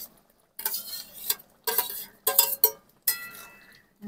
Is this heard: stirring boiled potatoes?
yes